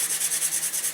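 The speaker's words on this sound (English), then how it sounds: "Sand off up top." Sandpaper is rubbed in quick, even back-and-forth strokes over a wooden part of a rocket glider, about ten rasping passes in a second, close and fairly loud with no talk.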